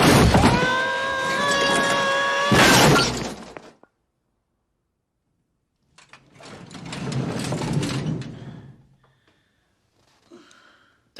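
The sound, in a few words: tool chest falling down the stairs, from a movie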